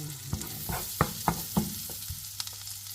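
Garlic hits a hot frying pan and sizzles, with a series of soft stirring knocks and scrapes at an uneven rhythm, close and moderately loud, over a steady frying hiss.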